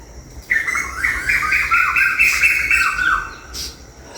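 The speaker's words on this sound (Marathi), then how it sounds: "आवाज आहे का मागे पक्ष्यांचे?" Birds calling at a Konkan beach around seven in the morning: a steady run of bright chirps and tweets from several birds, fairly close, lasting a few seconds and then fading, with one last call after a short gap.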